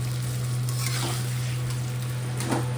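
Taro greens and hilsa fish head are stirred in a pan, a loud continuous sizzle with scraping strokes of the spatula and a low steady hum from the stove beneath.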